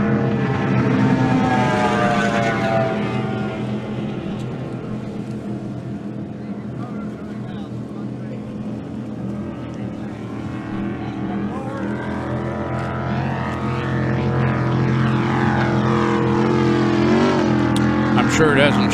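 Outboard racing boats roar during the 2022 Reliable Diamond Tool Parker Enduro, a loud, continuous engine drone with shifting pitch as the boats pass, heard under an announcer's commentary.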